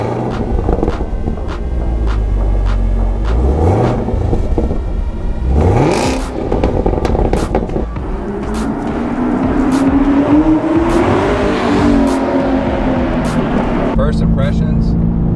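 A 2018 Chevrolet Camaro ZL1 1LE with a supercharged LT4 engine accelerating hard on the road, engine note rising and falling through several gear changes, loud and close from inside the cabin, with a voice talking over it.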